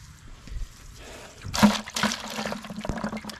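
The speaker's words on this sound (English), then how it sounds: "I'm gonna put some water in" Water is poured into a bucket full of mineral specimens. The splashing gush starts suddenly partway through and continues steadily close by, after a quieter stretch of faint handling noise.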